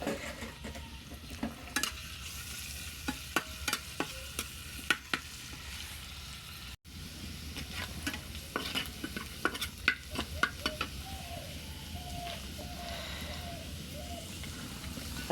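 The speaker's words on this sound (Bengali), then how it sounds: "এখন আমি ভাজি করবো, সিম দিয়ে আলু দিয়ে ফুলকপি দিয়ে ভাজি।" Beans, potato and cauliflower fry on a wood-fired stove with a quiet, continuous sizzle, broken by frequent sharp clinks and scrapes of stirring.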